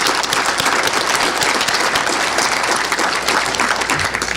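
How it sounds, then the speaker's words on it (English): Dense, steady applause from a conference audience, continuous clapping filling the whole stretch with no pauses. "let's give them a round of applause."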